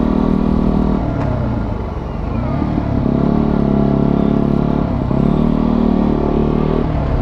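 A Fantic Caballero Flat Track 125 stock motorcycle engine drones steadily while being ridden, a close, continuous buzzing rumble with slight rises and dips in pitch and no speech over it.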